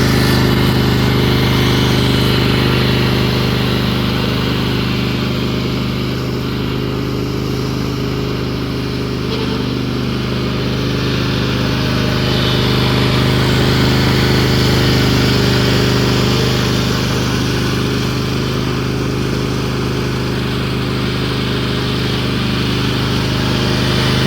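A John Deere D130 riding lawn mower engine runs steadily throughout, a loud continuous drone with a strong low hum, close by and without talk while the machine is driven forward and back after a drive repair.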